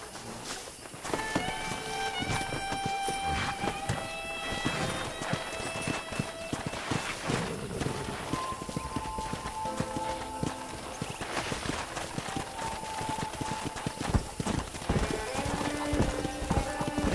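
Hooves clip-clop steadily on hard ground, joined by occasional whinnies and snorts amid a busy outdoor background, with no talking, from the video game Red Dead Redemption.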